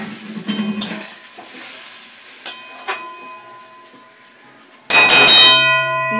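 Dry lotte fish cooks in a pan, with faint stirring and scattered clinks before water is poured in, then a sudden loud, steady sizzle and hiss that fades slowly, with no talk.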